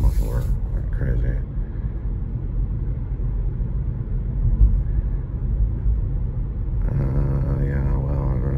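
A car's loud muffler exhaust drones as a steady, heavy low rumble on a late-night city street, holding close and even throughout with no talk over it.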